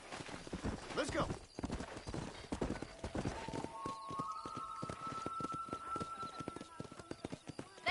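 Horse hooves clip-clop in a steady rhythm in the video game Red Dead Redemption, loud and close, with a whinny early on and a voice speaking over the hoofbeats.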